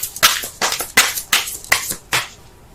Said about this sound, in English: Let me pull one more card for that.